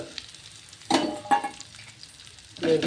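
Okra sautéed in a pan with salt and coriander, a soft sizzle underneath broken by three louder bursts of frying and stirring, close by with no talking.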